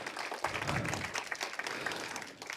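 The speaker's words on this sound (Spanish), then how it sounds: "Dale un aplauso de gratitud al Señor." A church congregation gives a short round of applause in gratitude to the Lord during a sermon on praying in tongues, dense steady clapping at moderate distance for a few seconds.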